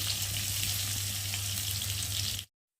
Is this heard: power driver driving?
no